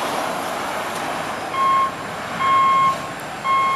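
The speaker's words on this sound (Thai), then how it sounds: "คันนี้มีเสียงถอยด้วย" A dump truck trailer in a convoy hauling soil sounds its reversing alarm: three steady, clear electronic beeps, evenly spaced, over a constant low engine rumble.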